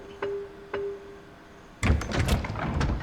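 A door opens in the survival horror game Resident Evil 3 Remake: two soft thuds come first, then a loud, dense burst of creaks and rattling clatter that carries on to the end.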